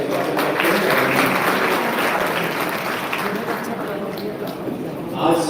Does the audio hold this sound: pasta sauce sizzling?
no